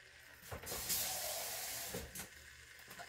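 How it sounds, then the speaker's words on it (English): Breakfast potatoes with a little water start to sauté in an Instant Pot, giving a soft continuous hiss and sizzle with a few brief louder bursts, faint and steady with no talk. "if you hear it, it's starting to saute"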